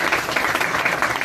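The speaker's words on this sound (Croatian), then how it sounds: "još jednom molim vas za aplauza Gorana Šarića" An audience applauds at a public lecture, with a dense burst of hand claps that stays steady and full, filling the hall without voices.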